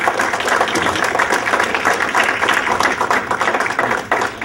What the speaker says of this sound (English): So please, a round of applause for our panel.